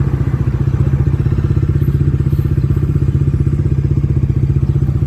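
A motorcycle rides along a narrow single-lane road, its engine close and steady with an even, rapid putter that holds for the whole stretch, with faint rattling on top.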